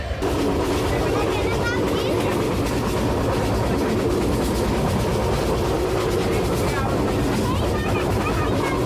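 Steady rumble of a moving train on the Pabna to Bogra line in Bangladesh, with a constant low roar and faint rhythmic rattling, continuous throughout, with a voice faintly present underneath.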